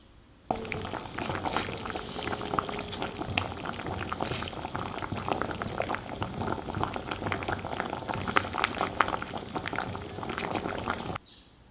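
Apples in about a litre of water bubble and boil in a pressure cooker over low heat, a dense steady gurgling and popping that starts abruptly and continues evenly, close and alone.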